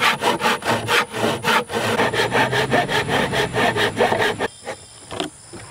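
Hand saw cutting through wood being fitted as transom reinforcement on a mud jon boat, a steady run of close, loud back-and-forth rasping strokes that stop near the end.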